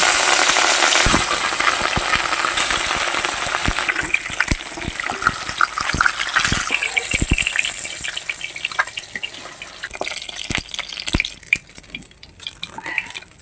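Katla fish slides into hot oil in a wok over a lit stove, setting off a loud, broadband sizzle that bursts at once and then slowly settles into a steady crackling hiss with scattered pops.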